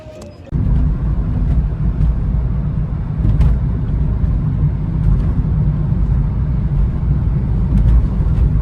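A car rolls along a road on the way to Shirdi, its engine and tyres making a steady, loud low rumble from inside the cabin with a few faint clicks, after a brief quieter moment at the start.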